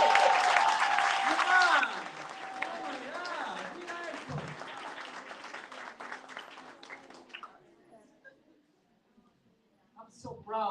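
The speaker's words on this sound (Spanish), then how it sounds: "Démosle un aplauso." Audience applause at a citizenship clinic, a broad burst of clapping strongest in the first two seconds, then thinning out and fading toward silence, with voices and cheers mixed in.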